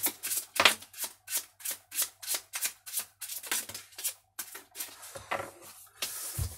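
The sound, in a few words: tarot cards being shuffled for a card reading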